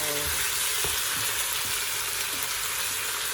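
Stir-fry noodles browning in a pan give a dense, steady hissing sizzle with a few soft scraping knocks from stirring, close by and unbroken.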